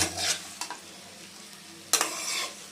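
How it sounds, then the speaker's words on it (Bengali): Pieces of fish are stirred slowly into a vegetable curry in a pan over low heat, giving a few soft scrapes and clinks against a quiet background sizzle. "মাছটাকে সব তরকারির সঙ্গে মিশিয়ে দিতে হবে খুব আস্তে আস্তে মেশাতে হবে"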